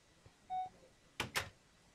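The motion tracker in the Alien: Isolation video game gives a single short electronic beep at a slow pace, followed by a couple of brief louder clicks or thumps; no one speaks.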